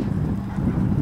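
Hooves of a young chestnut roan mare with little training, cantering and galloping, make a continuous, fairly loud low thudding with steady rhythm under wind noise on the microphone.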